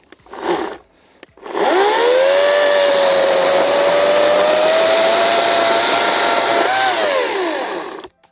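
After a brief buzz, the electric motor of an EGO CS1401E battery chainsaw with a 35 cm bar whirs up to a high steady whine for several seconds while cutting, dips in pitch once, then spins down.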